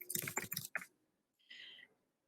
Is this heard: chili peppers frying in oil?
no